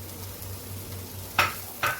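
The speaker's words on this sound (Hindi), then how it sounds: "अब मैं इसमें प्याज को ऐड करूँगी और मैं इसको हल्का सा सोते कर लूँगी" Onions sauté in melted butter with a soft, faint sizzle and low hum, broken by two sharp clinks of a spoon stirring against the pan near the end.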